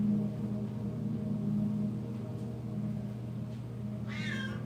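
A cat meows near the end, a short wavering call rising above a steady low hum, with no talk in between.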